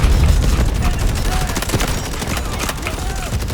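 Rapid SMG fire in the shooter game Delta Force, dense overlapping bursts of shots running continuously and loud with a low rumbling background.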